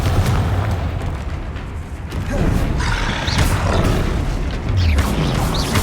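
Confringo blasting curse in Hogwarts Legacy, cast during a spell-heavy fight near a troll, sets off loud, rumbling explosive bursts that swell and roll through a dense wash of game noise and music, with no voices heard.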